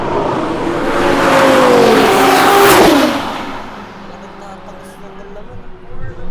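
A Lamborghini Huracan STO race car rushes past on a track, its engine rising to a loud revving peak with a falling pitch as it passes, then fading while other engines and a voice murmur in the background.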